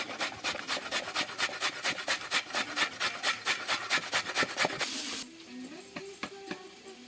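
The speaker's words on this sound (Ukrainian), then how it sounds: "Далі беремо морковку, шинкуємо її." A knife shreds a carrot in quick rhythmic scraping strokes, about twenty evenly spaced rasps close up, then the strokes stop and quieter clicks and handling noises follow.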